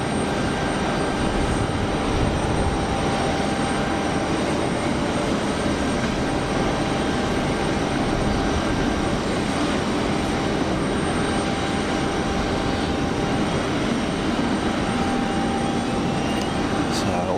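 Airliner jet engines roar steadily at Geneva Airport, a constant broadband rumble with a faint whine that holds evenly for the whole stretch.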